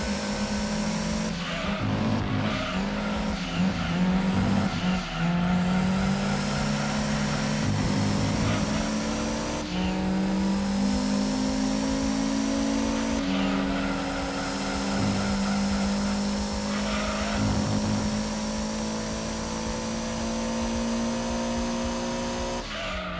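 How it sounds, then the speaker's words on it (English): A Corvette Grand Sport race car in Gran Turismo 2 revs hard through the low gears, its engine note climbing and dropping with each shift, with tire squeal between the pulls. Steady, loud, and close, with no talking over it. "Boy, does this car over revs on the first and the second gear."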